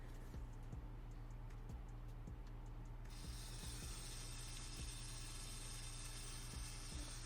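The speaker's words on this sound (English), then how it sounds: "I want to see how well the Sworder machine from DK Labs pushes these sort of needle configurations here." A DK Labs Sworder tattoo machine runs with 35 round mag needles, giving off a steady, fast mechanical ticking and buzzing that stays close and even throughout, with a brighter hiss joining partway through and no talking.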